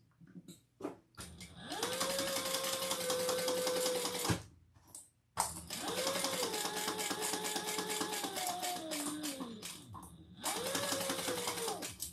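A sewing machine stitches a seam in three long, steady bursts of fast, even clatter, each one separated by a short pause, heard up close with no talking.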